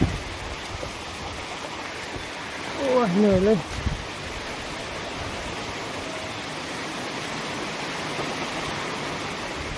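Rain falls steadily as a continuous broadband hiss for the whole stretch, with a brief spoken exclamation rising above it partway through.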